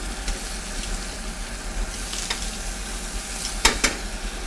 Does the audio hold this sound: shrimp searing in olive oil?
yes